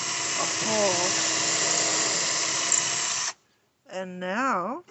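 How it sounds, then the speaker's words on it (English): A power drill bores a hole through a replacement deck board during deck repairs. The motor whines steadily and close for about three seconds, then stops abruptly, and a short burst of talk follows. "so now Popo's gonna drill a hole"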